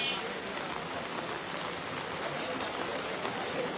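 Steady rain falling over an outdoor cattle market during the Qurbani season in Hazaribagh, Dhaka, a dense, even hiss that continues without a break and carries no clear voices.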